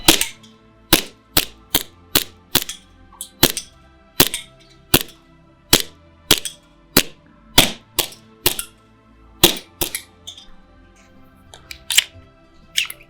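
An ICS Korth PRS gas blowback airsoft pistol fires a rapid run of about twenty sharp snapping shots with crisp slide clacks, close and loud, at a fairly steady pace with a few brief pauses.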